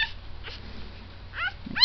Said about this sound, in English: White collared male, yep, squawking away.